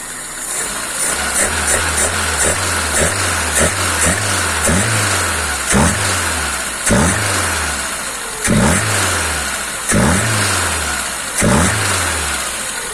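A car engine fitted with a rebuilt Solex 2108 carburetor with gas ports idles on choke, then revs up in a series of regular blips and drops back each time, loud and close.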